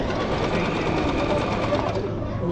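A Singer household sewing machine with a 70-watt motor running continuously, a steady close mechanical whir and rapid needle chatter throughout, with a voice talking over it.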